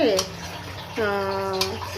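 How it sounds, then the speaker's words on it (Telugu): Water pours into a pot of lentils in two short bursts, the pitch rising as it fills, with a quiet pause between them. "అందుకని వాటర్ పోస్తున్నాను"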